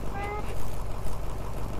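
Cat meowing on a bus in a video game, a couple of short high meows early on over a rumbling engine and a low voice, moderately near.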